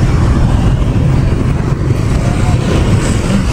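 Dense, heavy road traffic in Saigon near the Tan Thuan export processing zone, with cars and motorbikes crowded into a jam. A loud, steady roar of engines carries on without a break.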